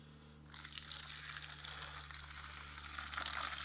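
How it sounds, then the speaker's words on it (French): Very hot water gushes onto dish soap coating a bicycle chain, a steady loud hissing splash that starts abruptly after a brief quiet moment and continues unbroken over a low hum. "De l'eau bien chaude."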